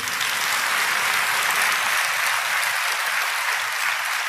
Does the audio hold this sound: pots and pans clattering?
no